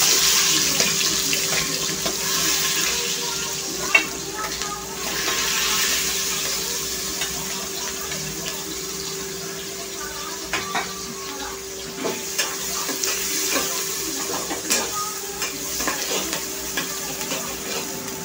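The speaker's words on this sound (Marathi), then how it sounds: "कांदा छान असा परतून घ्यायचा आहे आपल्याला" Onion frying in a pan for dal khichdi, a soft continuous sizzle with light scraping and stirring taps throughout, close and steady, with no one talking.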